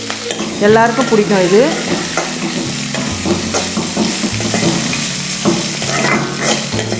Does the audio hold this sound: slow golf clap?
no